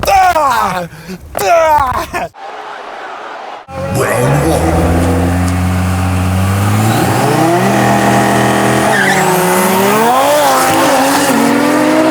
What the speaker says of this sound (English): better burnouts when the motor's super cold